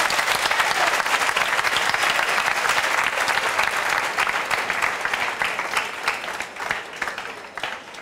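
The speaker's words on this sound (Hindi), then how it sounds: "ताली बजाओ जोरदार" Loud, sustained applause from a school audience celebrating a student from the Ladwa branch, a dense wash of clapping that fades gradually toward the end.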